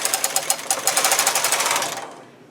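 A domestic knitting machine carriage pushed across two rows with the ribber set to tuck, a loud rapid rattling clatter of pulsing needle clicks that rolls on steadily and then stops, nearby and without speech.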